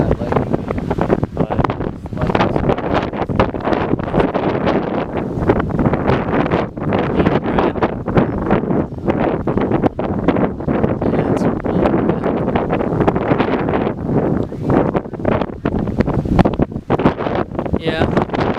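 Strong, gusty wind buffets the microphone during a severe summer storm near the Pennsylvania–Maryland border, a loud, continuous roaring rush with sharp gust bursts, with voices talking underneath at times.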